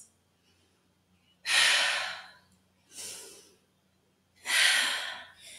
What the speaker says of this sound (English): We'll stay here for another 3 breaths,